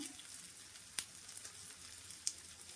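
Cabbage, chilli, carrot, capsicum, spring onion and onion frying in oil in a pan for egg Maggi, giving a faint steady sizzle with a few sharp crackles and pops.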